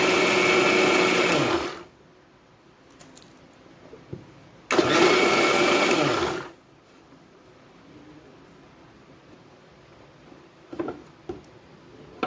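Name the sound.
mixer grinder grinding dal and rice for dosa batter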